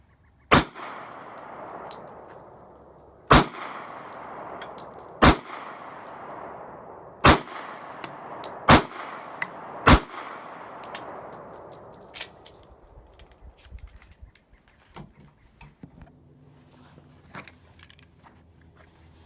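A Glock G43 9mm compact pistol fires six sharp, loud shots at an outdoor range, spaced a couple of seconds apart with ringing decay after each, followed by faint clinks and handling noises.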